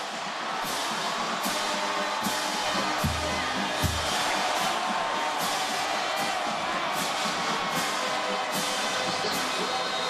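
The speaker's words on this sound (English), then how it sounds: "The Jayhawk fans with something to cheer finally." A stadium crowd of Kansas Jayhawk fans roars after a Kansas touchdown against Missouri, a continuous broad cheer with a series of sharp, regularly spaced bangs or claps cutting through and a couple of low thumps near the middle.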